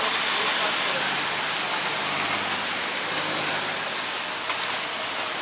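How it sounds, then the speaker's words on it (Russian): Steady, dense rain hiss falls continuously on Boracay island in the Philippines, a broad even patter with occasional louder drops and no break in the downpour. "сейчас дождик пройдет"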